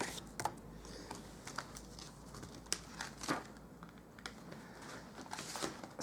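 Scissors or a die-cutting framelit working through card paper for a handmade Stampin' Up! card, giving soft crinkling, tapping and snipping sounds at close range, irregular and fairly quiet throughout with no voices.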